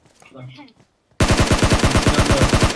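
Rapid automatic gunfire in PUBG Mobile breaks out after a brief spoken remark, a loud, close, evenly spaced stream of shots that runs to the end.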